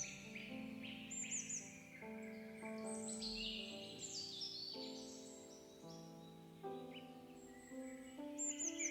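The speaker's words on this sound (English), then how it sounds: "notice the birds singing softly in the distance." Birds sing softly in a forest in the morning, several overlapping chirps and whistled phrases spread through the quiet air, faint and distant with no voices.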